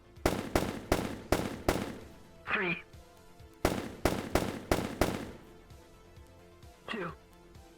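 Gunfire in the VRChat game rings out as two bursts of about five sharp shots in a quick rhythm, each burst followed by a short reload sound, while a voice counts aloud between them.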